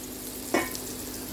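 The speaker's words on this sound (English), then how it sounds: "Let's fry for about 1 minute." A short hiss of frying in a pan with carrot, a brief stir-like burst in the middle over a steady low sizzle, close and with no talking.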